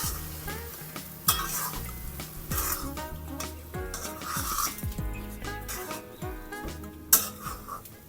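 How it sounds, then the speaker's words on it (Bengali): Mashed boiled potatoes stirred continuously with oil and spices in a hot pan over high heat, the spoon scraping in repeated strokes with sharp knocks against the pan over a steady sizzle. "এইভাবে 1 থেকে 2 মিনিট হাই হিটে এই আলুগুলোকে মশলার সাথে অনবরত নাড়তে থাকবো"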